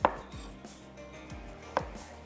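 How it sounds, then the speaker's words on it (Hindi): Two sharp knife chops through tomatoes on a cutting board, spaced well apart, with quiet kitchen background between them. "1 से 2 टमाटर लेने हैं तो उनको भी मैं चॉप कर लेती हूँ"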